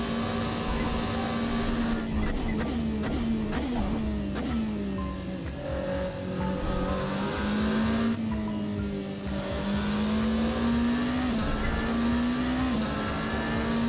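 Scuderia Glickenhaus SCG 007 race car engine in Assetto Corsa, loud and steady, revving through gears with pitch rising and dropping as it winds up along a lap.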